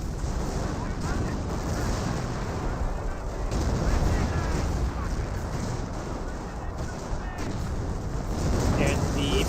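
Hummel artillery barrage in Company of Heroes, heavy overlapping booms and crashing explosions in a dense continuous battle din, with a commentator talking over the game sounds.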